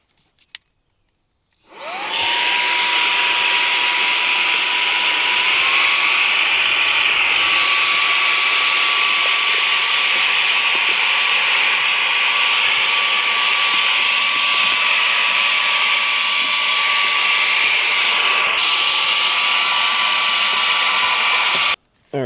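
A handheld OXILAM 4-in-1 cordless vacuum sucks sand out of a Toyota FJ Cruiser interior, giving a loud, steady whine with a constant high tone that runs unbroken for about twenty seconds after switching on, then cuts off abruptly.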